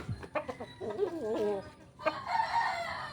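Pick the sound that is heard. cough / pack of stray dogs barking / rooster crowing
rooster crowing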